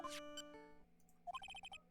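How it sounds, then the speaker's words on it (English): A short electronic phone ringtone from the video game Phoenix Wright: Trials and Tribulations, a quick run of bright beeping tones, quiet and alone. "What kind of ringtone is that?"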